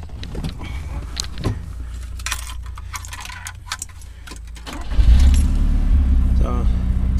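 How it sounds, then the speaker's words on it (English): A 1974 Fiat 124 Spider is started with the key: jingling keys and clicks, then the engine catches and settles into a loud, steady idle close by, with a voice talking over it. "I'll show you how nicely this car starts and runs just at the turn of the key."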